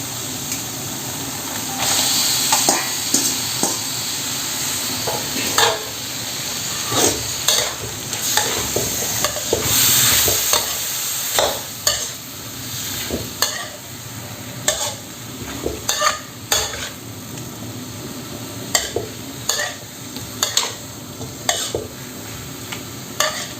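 Curry paste and santol fruit stir-fried in a pan for a Thai curry with shrimp, a steady close sizzle under frequent scraping strokes of a spatula against the pan, with no talking.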